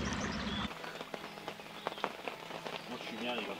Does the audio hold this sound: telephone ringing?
no